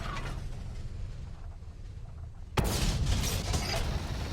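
Tank cannon fire from a Leopard 2AV in a tank video game: one loud, sharp boom cuts in midway and its rumble carries on over steady battle-game noise and faint background effects.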